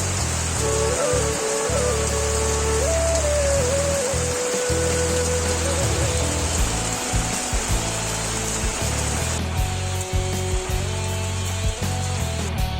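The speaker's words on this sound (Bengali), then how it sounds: "তোমরা বৃষ্টির সাউন্ডটা উপভোগ করো।" Heavy rain drums on the tin roof of a shelter at a village market, a constant wash of noise beneath steady droning tones and low mechanical hum.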